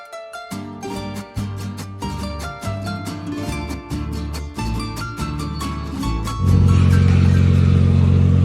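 A tuned 700 WHP 2023 Nissan Z engine cranks with rhythmic, stuttering pulses, then fires into a loud, sustained idle roar, close up with no talking.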